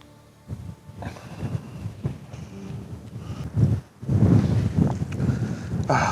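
Strong, gusty wind buffets the microphone outdoors on a cold day at a bird and wildlife photography spot, rumbling in uneven bursts that swell sharply toward the end.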